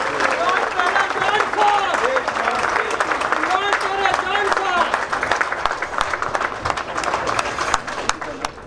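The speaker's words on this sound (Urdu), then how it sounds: "آپ کھڑے ہو کے تالیوں میں میرپور کے جو ہمارے یعنی سپوت ہیں اس کا استقبال ان کا کریں اور پرجوش طریقے سے کریں." An audience applauds to welcome Barrister Imran Hussain at a gathering, dense clapping from many hands filling the room while a voice carries on over it and the applause gradually thins toward the end.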